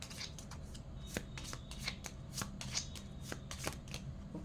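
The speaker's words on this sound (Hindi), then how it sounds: "पहले मैं एस्ट्रल कार्ड्स निकाल लेती हूँ" Astral tarot cards riffle and slap in repeated quick shuffles, close and crisp, in an uneven rhythm of card flicks and draws.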